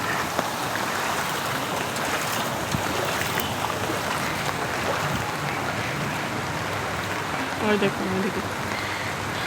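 Heavy rain pours down steadily on a flooded street, a dense continuous hiss with water rushing, while a person speaks briefly over it.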